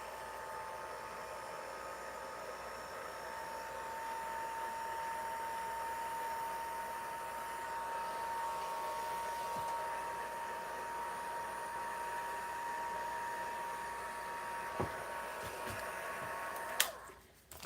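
A heat tool blows steadily while drying alcohol marker ink, a soft continuous airy whir with a faint thin tonal whine, ending with a few clicks as it shuts off.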